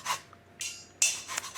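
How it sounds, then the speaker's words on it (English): A lemon scraped across a rasp grater, with short bursts of bright rasping strokes separated by brief pauses, close and fairly quiet. "this is the zest of 1 lemon. I highly recommend a rasp grater"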